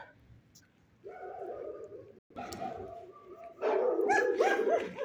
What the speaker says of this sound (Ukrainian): Собаки не дрімають, не дрімають, ні-ні. Невпинно остерігають свої двори.